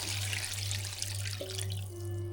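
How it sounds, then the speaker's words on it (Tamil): Water pours and splashes steadily into a pan of meal maker gravy, close by, with a low hum underneath. "இப்போ கிரேவிக்கு தேவையான அளவு தண்ணி சேர்த்துக்கலாம்"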